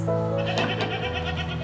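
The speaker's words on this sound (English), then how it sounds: "The goat sounds like this." A goat bleats once in a brief wavering cry, moderately loud over a constant low hum.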